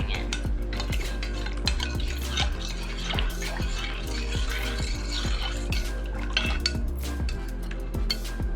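Milk for goat cheese being stirred quickly in a metal pot as cider vinegar makes it curdle, a steady run of close spoon scrapes and clinks against the pot with no voices.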